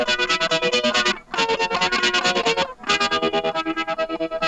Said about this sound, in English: the tremolo is actually sped up to double time and it sounds like this.